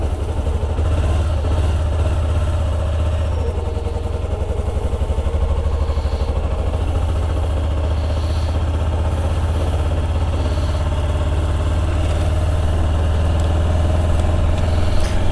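A carbureted Hyosung GT250R with a 249cc V-twin engine idles steadily and loudly up close, its low throbbing rumble continuous throughout without any voices.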